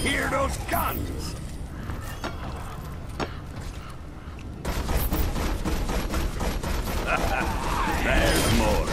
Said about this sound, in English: Let's hear those guns.